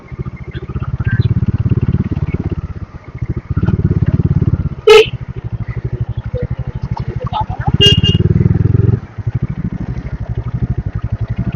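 A motorcycle rides through city streets near the Ganges at Bagbazar Ghat, its engine throbbing in a close, loud, steady pulse that dips between bursts, while a car horn honks briefly and people speak over it.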